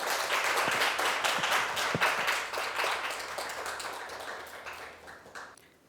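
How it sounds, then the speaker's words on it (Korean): An audience claps to welcome a speaker at a youth policy presentation event, a loud burst of many hands with distinct individual claps near the start, gradually tapering off over several seconds. "우리 원장님 큰 박수로 환영해 주시기 바랍니다."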